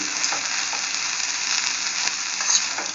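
Coriander leaves sautéing in oil give a steady, close sizzle with faint stirring scrapes, continuous for the whole stretch with no voices.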